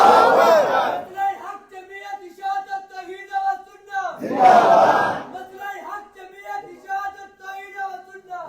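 A large gathering at a Quran conference roars a Takbeer chant in two loud collective bursts, each about a second long. Between the bursts someone speaks over a sustained musical drone.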